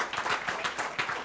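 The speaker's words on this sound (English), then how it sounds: "And now, you want to clap? Clap. Clap." Audience applause at a conference plenary session, a fairly faint, brief patter of clapping from a crowd in a hall, heard without talk.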